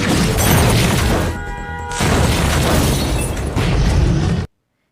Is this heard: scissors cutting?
no